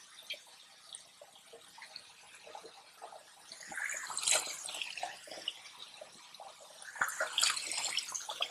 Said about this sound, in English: Run some lukewarm water through.